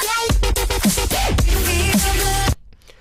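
Gritty, screaming lead synth bass, loud and alone, with stuttering pitch-bent notes and wobbling growls over a heavy low end, cutting off abruptly near the end.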